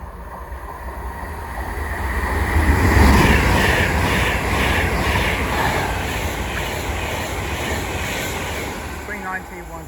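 A West Coast Main Line express from London Euston to Liverpool Lime Street rushes through Watford Junction station, a broad roaring whoosh that swells to a peak around three seconds and then holds as a steady rumble as it passes.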